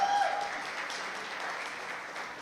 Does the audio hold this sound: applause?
yes